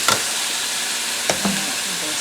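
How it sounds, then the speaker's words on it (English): A spoon stirring beans into a pot of vegetable soup, with a steady sizzling background and a few brief scraping strokes. "We'll stir that around."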